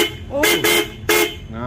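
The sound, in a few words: horn on a Vespa scooter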